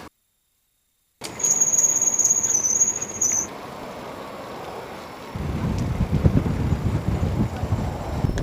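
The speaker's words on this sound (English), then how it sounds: "wind is so heavy. It's pushing me backwards." Strong wind buffets a microphone while cycling in Tsushima, Japan, first as a steady roar with a high whine, then as a heavier low rushing gust that swells toward the end.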